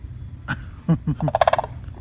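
Turkey-like gobbling from a bird in Orlando, Florida: a quick rattling burst of throaty notes that ends in a rapid, bright stuttering trill, fairly close and loud against a low background rumble.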